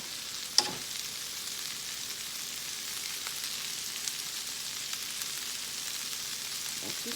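Green beans stir frying in a hot pan, seasoned with black pepper and salt, give a steady close sizzle throughout with a single sharp tap of utensil on pan near the start.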